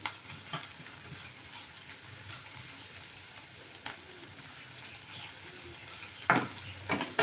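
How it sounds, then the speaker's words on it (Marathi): Onion frying in a pan on a home stove for a Marathi recipe, a steady soft sizzle close by with occasional stirring scrapes and clatters near the end. "हा जो बा कांदा आहे हा आपल्याला छानपैकी यामध्ये आता फ्राय होऊ द्यायचा आहे"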